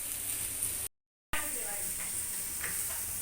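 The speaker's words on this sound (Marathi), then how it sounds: "चला आपला भाजते कांदा, लसूण, अद्रक" Onion, garlic and ginger sizzling in a hot pan, a steady close hiss of frying cut by a short gap, with faint talking.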